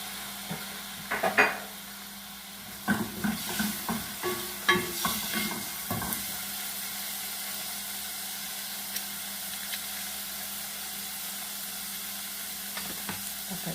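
Chicken pieces dropped into a pan of fragrant fried garlic for a Ramadan iftar meal. A steady sizzle runs throughout, with a burst of clattering stirs and utensil knocks early on, then it settles to even frying.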